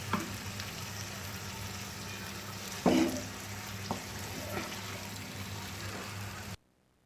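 Chicken pieces and potatoes fry in a pan with masala, making a steady sizzle broken by a few stirring clacks, and the sizzle then cuts off abruptly.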